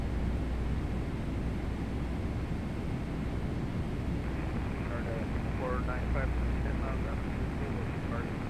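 A simulated Boeing 777-200ER landing in the PMDG flight simulator with a Boris Audio Works soundpack gives a steady, loud broadband engine and airflow roar the whole way through, with faint tonal warbles partway in.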